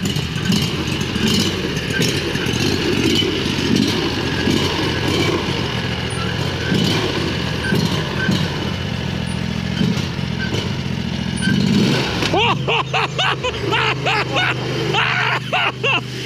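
A 670cc motorcycle engine runs loudly and steadily, revving up near the end with rising, throbbing pitch; people talk faintly underneath.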